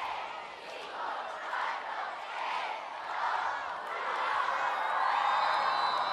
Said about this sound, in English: the crowd will now count us down to the start of the second half